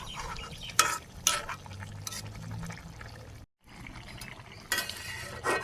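A spoon scrapes and stirs through a rohu fish curry with potatoes and okra as ground spices and cumin are mixed in, with a few sharp clinks against the pot over a low bubbling simmer, near and alone.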